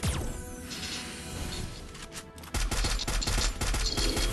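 Rapid bursts of gunfire from the Free Fire battle game, dense and loud, with a brief lull before a harder stretch of repeated shots and impacts that fills the rest of the moment.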